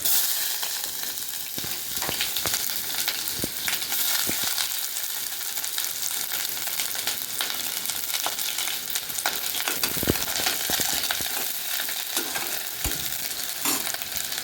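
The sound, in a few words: garlic and onion frying in a pan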